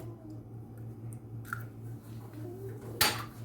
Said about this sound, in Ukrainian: Вбиваємо по одному яйцю, щоб нам було легше перемішувати